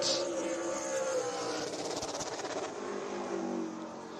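Race car number 98 rolling onto Five Flags Speedway in Pensacola during the Sunshine State 200, a faint, distant engine drone that holds steady and then eases slightly.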